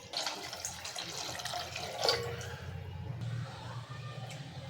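Water pours from a glass into a pan of simmering spiced masala for a gram-flour dumpling curry, a brief splash and gurgle followed by quiet bubbling, heard close and fairly faint.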